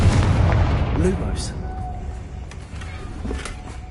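A Confringo spell blast in the Hogwarts Legacy video game, a booming burst low in the mix at the start and fading through the short clip, with a voice casting spells nearby.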